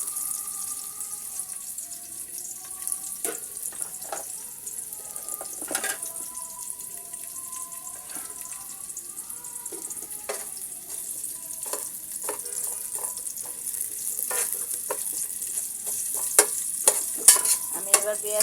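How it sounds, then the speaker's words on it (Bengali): Chopped onion sizzles in hot oil in a pan while beef rezala is being cooked, a steady hissing fry with scattered spatula clicks and scrapes, moderately loud and close, with no talking. "আমি এবার পেঁয়াজ কুচিটাকে ভেজে নিচ্ছি।"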